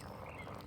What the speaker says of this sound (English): Oh man, that's a lot of frogs.